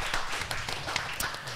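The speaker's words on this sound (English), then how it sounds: "So give a big round of applause to IKEA, everybody." Audience applause at an IKEA family members' event, a dense crowd of clapping hands that carries on steadily, with a few sharper claps standing out.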